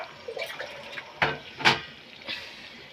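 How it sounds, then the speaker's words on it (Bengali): A little water is poured into chicken kosha cooking in a pan, giving a few brief splashing gushes over a quiet background. "এখন আমি একটু জল দিয়ে দেবো"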